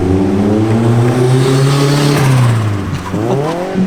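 A car's engine revs and strains at close range as it is driven into a shop, its loud drone rising and falling while the driver works the clutch and shifts, with a brief squeal near the end.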